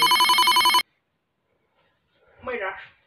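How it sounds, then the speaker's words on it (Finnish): A telephone rings in a quick, electronic burst of repeated trills that stops abruptly, followed after a pause of silence by a short, distant-sounding voice. "No puhelin."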